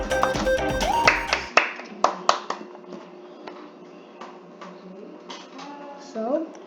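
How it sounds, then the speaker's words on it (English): A handful of people clap their hands during a first-time game of Murder Mystery 2, a few distinct sharp claps standing out over a background of talk, game noise and clatter. "Clap your hands, everyone."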